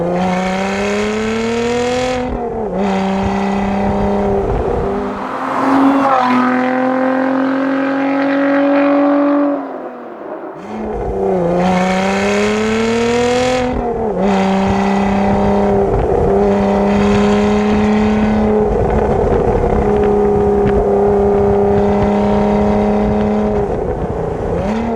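A Lotus Emira with a supercharged 3.5-litre Toyota engine drives hard, loud and close, revving up through gears with clear shift breaks and a brief lift-off in between.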